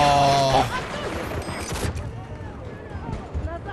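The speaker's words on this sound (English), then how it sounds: "The random explosions, man." Explosions and gunfire in the multiplayer shooter Battlefield 2042: a loud blast fades into scattered distant shots and thuds, with a player talking over part of it.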